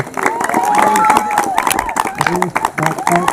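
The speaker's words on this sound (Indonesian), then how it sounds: "Tepuk tangan terus sampai saya suruh berhenti." Clapping from a crowd at a Scout council inauguration ceremony keeps going throughout, mixed with voices and chanting that ride over the claps.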